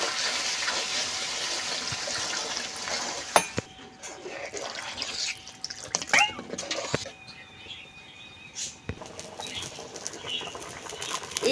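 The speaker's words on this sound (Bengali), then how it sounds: "সেই গরম জল এখন মাংসতে দিয়ে দেব।" Hot water poured into a pot of browned mutton curry, a broadband watery rush and sizzle over the first few seconds, then quieter bubbling and scattered kitchen clatter.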